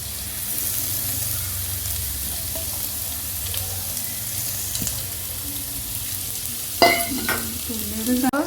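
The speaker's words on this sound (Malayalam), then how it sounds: "ഇനി നമുക്കിത് സവാള പെട്ടെന്ന് ആയി കിട്ടാൻ വേണ്ടിയിട്ട് ഞാൻ മീഡിയം ഫ്ലെയിമിലാണ് കേട്ടോ ഇട്ടിട്ടുള്ളത്." Sliced onions frying in a pan over a medium flame for Manjali chicken biriyani, giving a steady, moderate sizzle with a few stirring sounds and sharp clinks near the end.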